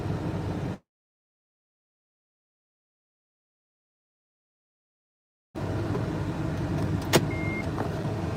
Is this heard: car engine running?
yes